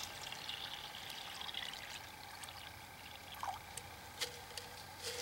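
Water poured into the small reservoir bag of a water filter, a faint steady trickling and splashing with a few brief louder drips and gurgles near the end.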